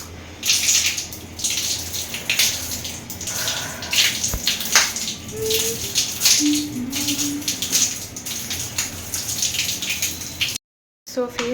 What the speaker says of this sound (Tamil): ஸோ ஃபேஸ் வந்து வாஷ் பண்ணிட்டேன்.